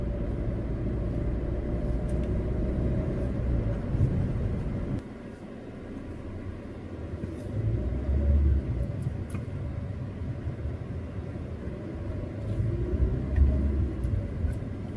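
Car driving along a ghat road on the way from Pune toward Kudal in Kokan, a steady low engine and road rumble from inside the cabin that dips briefly and then continues.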